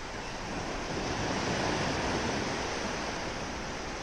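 Surf rolls steadily onto a beach during surf fishing, a continuous loud wash of breaking waves mixed with wind buffeting the microphone, no voices over it.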